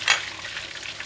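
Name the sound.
stirring spring onions and parsley in chilli garlic oil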